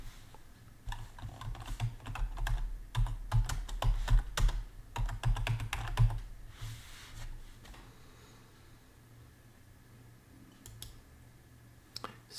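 Rapid keystrokes on a computer keyboard clatter up close for the first half, then thin out to occasional clicks over a quiet room.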